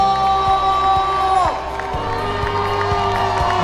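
Children cheering and shouting at a night race form a lively crowd din, joined by steady tonal sounds and a few sharp thumps throughout.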